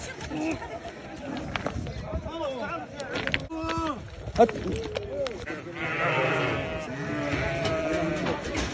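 Sheep bleat several times at a village in the West Bank, wavering calls at middling distance mixed with people's chatter and outdoor background noise.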